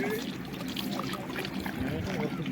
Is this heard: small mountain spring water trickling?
yes